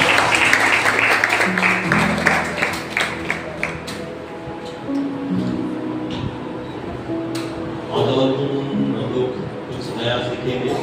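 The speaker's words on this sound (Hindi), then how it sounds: "आइए जोरदार परमेश्वर के लिए तालियां बजाएं।" A church congregation claps during a Sunday sermon, a loud, rhythmic burst of applause at the start that fades into a busy hum of voices and movement, with speech running over much of the clip.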